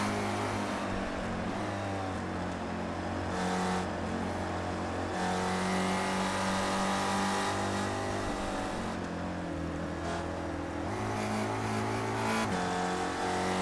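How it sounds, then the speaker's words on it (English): A Spec Racer Ford race car at Watkins Glen drives hard, its engine droning and revving through gear changes including a quick downshift that blips up to the limiter before shifting back up, loud and continuous with no voices. "I heard him do that quick downshift, hit the rev limiter, and then shift back up."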